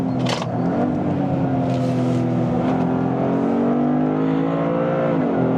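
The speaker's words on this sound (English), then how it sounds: "a 3-cylinder pumping out 300 horsepower, so much fun to drive" Three-cylinder, 300-horsepower Toyota GR Corolla accelerating hard around a race track, its engine note droning loud and close with steady harmonics that rise, dip and climb again through gear changes.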